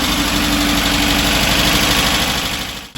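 A 1968 Porsche 912 engine idles after carburetor tuning and a cleaned idle jet, a loud, even, rumbling idle with a steady pulsing beat, close up, that cuts out just before the end.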